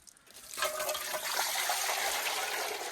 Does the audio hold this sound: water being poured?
yes